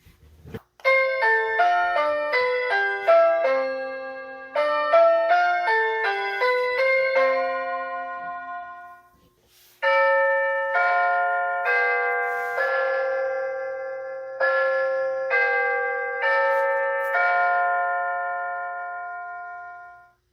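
Bright Hampton Bay electronic doorbell chimes play three short melodies one after another, each a ringing run of bell-like notes, loud and close, with no talking.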